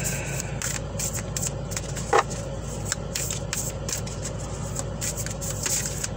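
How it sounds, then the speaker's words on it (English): Soft, repeated riffling and scraping of tarot cards being shuffled close by, over a low steady hum, with one sharper flick partway through. "get ready for this shuffle."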